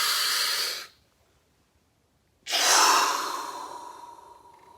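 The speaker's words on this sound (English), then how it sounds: "So take a deep breath in." A deep breath drawn in during a guided meditation, a long airy inhale, then a pause of silence and a second long breath fading slowly, close and clear with no talking.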